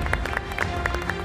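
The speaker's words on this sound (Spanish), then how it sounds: "Bien fuerte el aplauso" A short burst of game show studio audience clapping, dense and steady, with rapid overlapping claps over a continuous room murmur.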